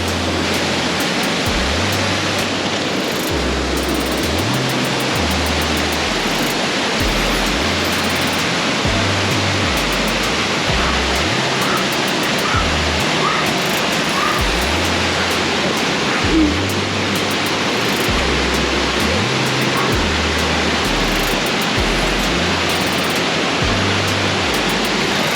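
A waterfall cascades steadily in India, a dense, constant roar of falling water with no pauses, close and loud throughout, alongside a faint repeating low pulse.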